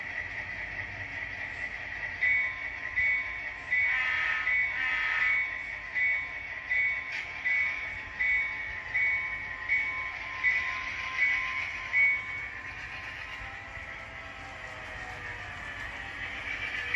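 A small HO scale model train runs steadily on a layout with a soft rolling hum and light rhythmic clicking of wheels over track joints, no talking.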